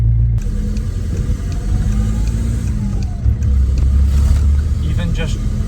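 A 1.9 TDI diesel car fitted with a 3-inch downpipe and no exhaust pulls away, giving a deep, loud, steady engine drone recorded from inside the car while someone talks.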